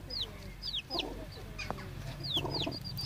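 A mother hen clucks low and steadily to her chicks while the chicks peep in high, sliding chirps over them, close by in a quiet indoor setting, with no talk.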